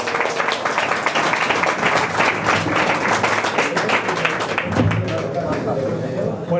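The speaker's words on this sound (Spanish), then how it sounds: "Un fuerte aplauso para ellos." An audience applauds at a live history podcast event, dense clapping filling the room for several seconds before thinning out near the end, with some crowd murmur underneath.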